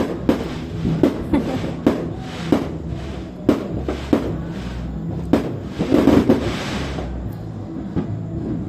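Sharp bangs of firecrackers go off outside a house on New Year's, at irregular intervals, some single and some in quick bursts, over a steady background rumble.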